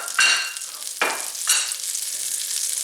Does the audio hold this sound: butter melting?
yes